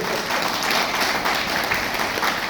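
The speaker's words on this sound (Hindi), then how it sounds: "एक बार जोरदार तालियां सर के लिए।" Loud, dense applause from an audience for a teacher, a continuous even roar of many hands clapping with no one speaking over it.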